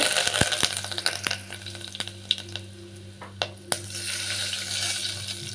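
Asafoetida and curry leaves fry in hot oil for a rasam tempering, a soft steady sizzle with sharp scattered pops and crackles, quiet and close, with no talk.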